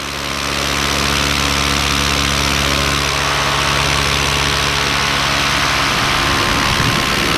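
A two-stroke paramotor engine drones steadily and loudly in flight, a continuous close buzzing roar with wind rush that holds an even level throughout, with no voices.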